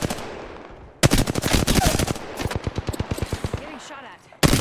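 Apex Legends gunfire rattles in rapid automatic bursts, loud and close, with a sharp opening shot followed by steady rhythmic rounds and a final blast, while a player's voice talks over parts of it.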